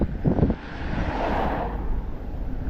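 Wind gusts roar across the microphone on a cold night walk in Maine, a steady rushing blow with a brief louder buffet near the start.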